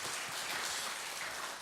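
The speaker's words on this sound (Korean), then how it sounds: "박수로 크게 환영해 주시면 감사하겠습니다." Church congregation applauding to welcome a visiting missionary pastor during a Sunday service, a soft, distant, even wash of many hands clapping with no voices.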